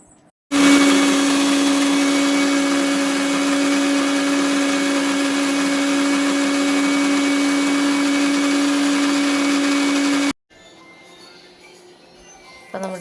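An electric blender grinds almonds for juice, a loud, steady motor whine running for about ten seconds before cutting off abruptly, followed by quieter room sound.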